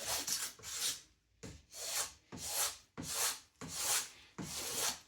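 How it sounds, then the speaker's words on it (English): Hand sanding of balsa wood tail feathers, close and fairly quiet, in a steady back-and-forth rhythm of about six to seven rasping, scratchy strokes with short gaps between them. "I'm just taking the bulk of it off so I don't fill the house with balsa dust."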